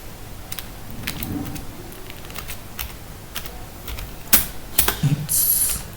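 Keys clatter on a computer keyboard while someone types Python code: irregular light clicks spread over six seconds, a few sharper, louder keystrokes near the end, and no speech.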